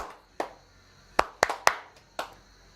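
Several separate sharp hand claps, close and crisp, spaced irregularly with a quick cluster of three in the middle and single claps before and after, over quiet background.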